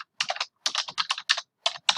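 A name being typed on a computer keyboard: quick bursts of close key clicks in several short clusters with brief pauses between them.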